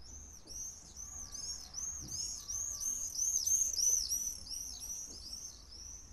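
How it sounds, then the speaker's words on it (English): Swifts scream in a summer sky over Dublin, a male and female trading calls back and forth in a rapid run of repeated shrill screeches, fairly close and steady over faint background hum. "This is the sound of swifts."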